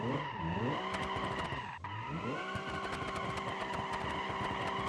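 Video game drift car sliding sideways with tires squealing in long wavering screeches over a steady engine drone, pausing briefly before the skid resumes, loud and continuous.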